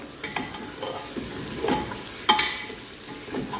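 Mutton with spices and cardamom powder fries in a pan for rogan josh while a spoon stirs it, giving a close sizzle with scraping sweeps and a sharper clack partway through.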